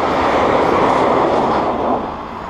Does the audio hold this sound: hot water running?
no